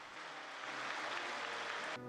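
Congregation applauding inside a cathedral at the close of a Catholic priestly ordination, a dense, even wash of clapping that stops abruptly near the end.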